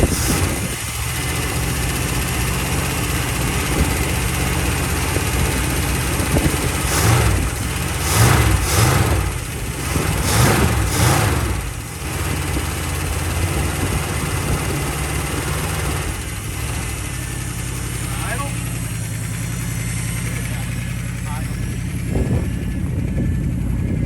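A 1972 Mercedes W100 engine, restarted after sitting 15 years, runs at a steady idle with a fast ticking lifter noise, loud and close, with brief revving swells midway.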